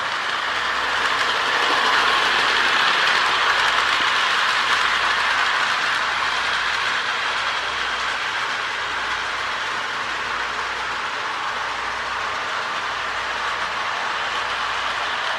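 A Marx E7 toy model train in USMC camouflage runs continuously around its track, making a steady close clickety-clack rattle of wheels over rail joints with a constant motor whir.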